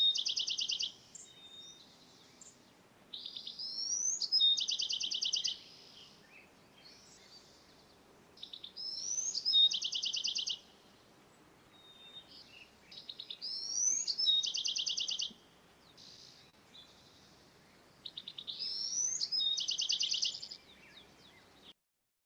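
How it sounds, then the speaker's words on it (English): Recorded wild bird song: four bursts of bright, rapid high-pitched phrases, each a few seconds long and separated by pauses, heard clearly on its own over a faint low background hum. "I don't think necessarily the birds have been changing with time. I think it's just that they have a lot of variability in song."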